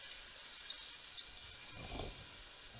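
Warm water poured into a kazan holding beef oxtail, a steady close rushing splash that swells briefly near the end, no talk.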